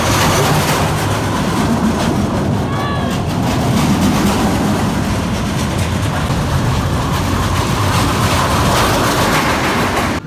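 The Scorpion roller coaster at Busch Gardens Tampa gives a loud, continuous rumbling roar of a train on its track, with wind noise and faint riders' voices mixed into the steady din.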